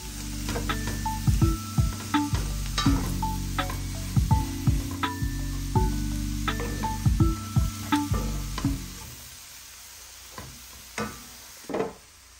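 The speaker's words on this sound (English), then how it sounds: "We'll also mix everything together and continue stir frying it for a few minutes." Vegetables for chicken spring rolls sizzle in a hot pan while a utensil scrapes and clatters against it in repeated stir-frying strokes, the sizzle fading toward the end.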